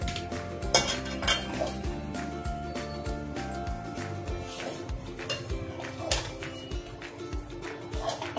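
A metal spoon repeatedly scrapes and clinks against a kadai as dhoka batter of ground lentils is stirred while it cooks, giving steady close clatter with rhythmic knocks.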